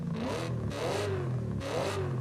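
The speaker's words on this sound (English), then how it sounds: "I like the sound of the hot air intake." A car engine fitted with an open hot air intake revs in Forza Horizon 5, the pitch climbing and dropping in two surging pulls with a steady intake roar and no talk.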